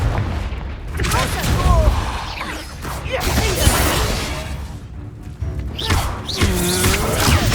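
Confringo blasting spell explosions in Hogwarts Legacy, several loud booming blasts and crashes in quick succession amid battle noise, with voices shouting over them.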